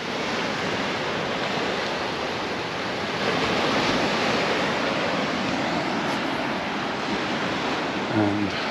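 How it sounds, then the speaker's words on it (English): Big sea waves roll in at Portals Nous on Mallorca in a loud, continuous broadband roar with some wind buffeting the microphone. "Again, we've got the big waves."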